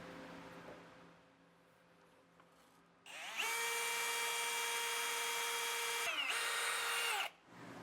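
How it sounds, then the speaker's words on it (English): Power drill boring through trailer frame metal with a stepped-up bit toward 21/64 inch, a steady high whine running for about four seconds, briefly dipping once, after a quieter lead-in with faint machine hum. "we're gonna go every other size up until we get to that 21/64, just to make it a whole lot quicker to drill through"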